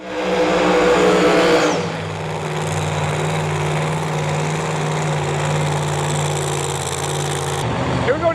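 Pro Mod drag race cars, including a screw-blown Chevelle, at a US Street Nationals qualifying session. A loud engine roar cuts off after about two seconds, leaving a steady, humming engine drone that runs until a short burst near the end.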